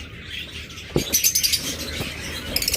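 Startled pet birds flutter in their cage, bursts of flapping wings and scrabbling with a few short chirps, close by over a quiet background.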